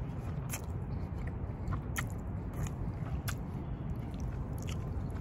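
Egg noodles from a Malaysian chain restaurant are chewed close to the mic, with soft wet squishes and small bites repeating over a low background rumble.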